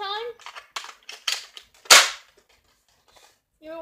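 Nerf Sledge blaster shooting a dart, a single sharp pop-and-whoosh burst after a few quieter mechanical clicks and handling sounds, with a voice before and after.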